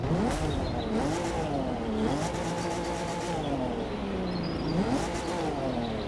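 A Nissan 350Z Roadster engine in the video game The Crew 2 revs repeatedly, its pitch rising and falling in steady sweeps, loud and uninterrupted.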